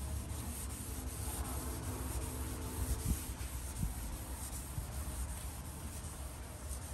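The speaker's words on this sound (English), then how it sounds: "And you want your sanding linear, not in a circle." Steady, soft rubbing and scuffing of hand sanding car clear coat in linear strokes continues throughout, close and fairly quiet, with a few faint knocks.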